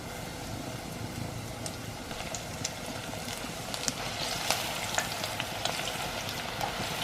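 Steady crackling sizzle of snowflake-coated chicken strips deep-frying in hot oil, with scattered louder pops over a constant hiss throughout.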